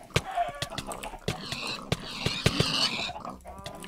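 Pig oinking in Minecraft during a mini game, short grunting squeals repeated among sharp hit clicks and game effects, fairly close and busy.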